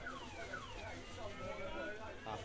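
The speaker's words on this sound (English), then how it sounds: "Have to use my keys now to take off the alarm." Car alarm sounding continuously in cycling electronic tones outdoors near a football match venue, fairly loud and steady throughout with a faint murmur of voices beneath.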